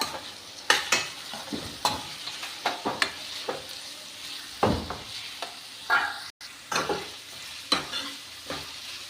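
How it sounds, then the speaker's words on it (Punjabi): Chopped garlic sizzles in hot oil in a pan while cooking a cowpea bean and potato sabzi, with a steady fry hiss and repeated sharp clinks and scrapes of a spoon stirring. "ਥੋੜਾ ਜਿਹਾ ਆਪਾਂ ਵਿੱਚ ਲਸਣ ਐਡ ਕਰ ਦਾਂਗੇ"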